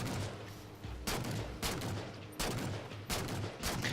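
Plasma pistol fire in Halo 4 Spartan Ops, sharp bursts of energy-weapon shots in uneven clusters, loud against a low rumbling battle backdrop, with no speech.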